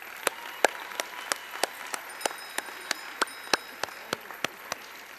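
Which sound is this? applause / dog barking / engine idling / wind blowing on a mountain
applause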